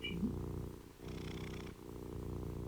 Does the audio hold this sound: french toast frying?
no